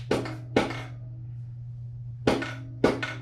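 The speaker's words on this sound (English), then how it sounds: "I'm gonna try taking my dead blow hammer," A dead blow hammer tapping a 1983 Suzuki GS1100E engine case: four sharp knocks in two quick pairs, a pause between them, over a steady low hum.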